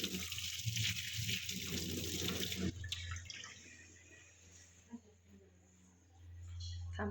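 Water runs from a tap while hands are washed, a gushing splash for the first few seconds that stops, then trickles and drips before flowing again at the end; a voice talks faintly.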